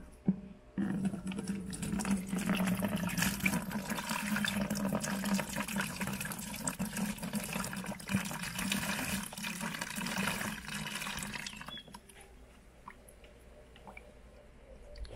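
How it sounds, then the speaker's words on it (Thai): Fruit juice gurgles and splashes steadily as it is poured into a 20-litre fermenting bucket for sparkling wine, then stops abruptly, leaving a quiet tail. "เดี๋ยวเราก็จะเทน้ำผลไม้ใส่เข้าไปเลยนะฮะ"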